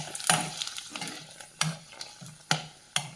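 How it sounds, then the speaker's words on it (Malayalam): Two chillies frying in a pan for a simple home dinner, giving a quiet crackle with several sharp pops and spits scattered over soft background sizzle, no voices. "ഇനി 2 മുളകും കൂടെ വറക്കാം"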